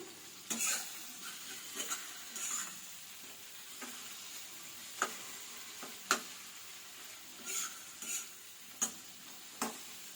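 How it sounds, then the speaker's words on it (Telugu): Tomatoes and tamarind stewing in a pan for a drumstick-leaf tomato chutney, a soft steady sizzle broken by repeated sharp clicks and scrapes of a stirring spoon against the pan, with no talking. "ఈ టమాటాలు మగ్గుతున్నాయి. నెక్స్ట్ దీంట్లో కొంచెం చింతపండు అండి ఈ టమాటాల్లోనే వేసి మగ్గిద్దాము."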